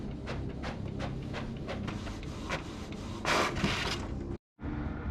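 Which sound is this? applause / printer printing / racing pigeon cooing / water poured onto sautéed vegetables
printer printing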